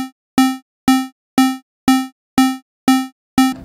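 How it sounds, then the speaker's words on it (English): Massive software synth oscillator running a step sequence in eighth notes, heard as eight evenly spaced, loud, bright plucky tones with sharp attacks and quick decays, alone with no voices. "our oscillator turn up for every other step in our sequence"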